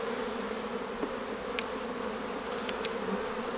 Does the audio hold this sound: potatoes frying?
no